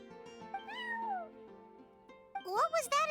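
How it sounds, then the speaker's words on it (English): A cat meows in the Genshin Impact video game, several drawn-out, rising and falling calls, the last ones louder and more strained, over a soft sustained musical backdrop. "I'm sorry, that's my neighbor's cat."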